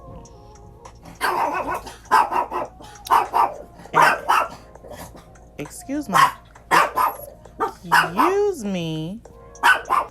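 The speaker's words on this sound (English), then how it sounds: "You'll have to excuse my dogs, honey, because they hear somebody outside." Dogs bark and yelp in short bursts, with a few higher whining yips, while someone talks over them nearby.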